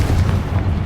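A Confringo explosive spell goes off in Hogwarts Legacy: one short, loud, rumbling blast with a heavy low-end roar filling the moment.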